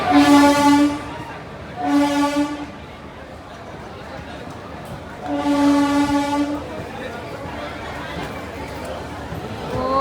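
On a crowded general-class platform for the Hosapete to Pune train, a loud train horn sounds in three long blasts, two close together at the start and a longer one later, over steady crowd chatter.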